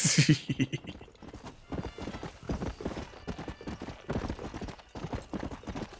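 Horse hooves clip-clop steadily in the video game Red Dead Redemption, a rhythmic trotting beat close by after a brief whinny, with faint background sound and no talk.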